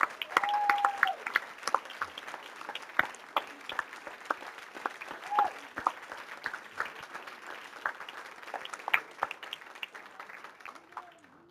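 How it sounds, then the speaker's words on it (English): A church congregation at a Sunday service gives a standing ovation, a sustained wash of fairly soft clapping from many hands with a few faint whoops over it. "So you get to give yourself a standing ovation because this is you."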